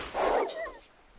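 A single short dog bark with a whimpering, yelping tail from DayZ, close and brief, lasting about a second.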